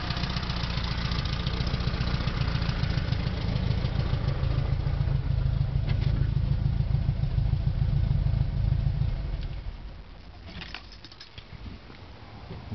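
The engine of a customized VW Beetle with gullwing doors, a ceramic-coated exhaust and a Dellorto carburetor runs at a steady, throbbing idle close by, then drops abruptly to a much quieter background near the end.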